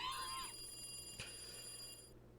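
A telephone rings in the video game Higurashi When They Cry, a trilling electronic ring that fades out within the first half-second, leaving a steady hum and faint background tones.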